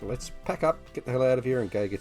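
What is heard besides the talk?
None of the usual background noises is heard.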